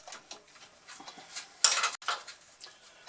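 Steel change gears fitted by gloved hands onto the oily main drive of a Boxford metalworking lathe, a 24-tooth then a 56-tooth gear: soft metallic clinks and taps scattered throughout, with one sharper, louder clatter near the middle, close and alone.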